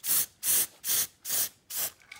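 A spray can touches up a spot on a Nerf G36C blaster in five short, even bursts of close, loud hissing, separated by brief pauses.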